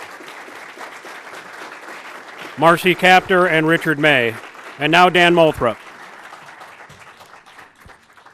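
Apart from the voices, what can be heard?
audience applause for debate candidates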